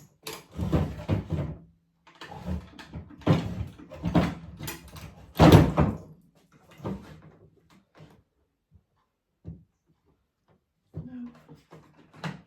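Wooden drawers pulled open and pushed shut while searching a cottage room for a dropped sewing needle, several close scraping and knocking bursts that thin to sparse faint clicks, then a final shuffle.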